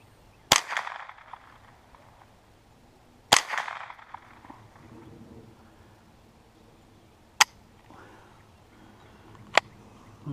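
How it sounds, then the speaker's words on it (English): A .22 rifle fires outdoors, four sharp cracks spread unevenly over about ten seconds, the first two loud with short ringing tails and the later two thinner, with faint background noise between shots. "Alright, so I got 10 rounds off."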